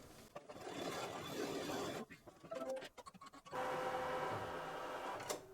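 Sewing machine running a final blanket stitch on an appliqué chicken, a close, steady mechanical whirring that breaks into a stuttering pause midway, then resumes.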